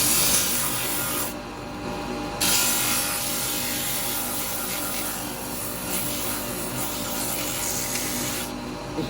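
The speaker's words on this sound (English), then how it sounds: "I'm going to quickly sand that" Sandpaper of 180 grit rubs against spalted firewood spinning on a woodturning lathe, making a loud, continuous abrasive rasp over the motor's hum, with two brief dips as the paper lifts away. No one talks.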